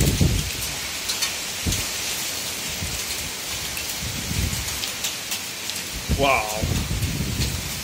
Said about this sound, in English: Hail and rain, and this is the Norwegian summer this year.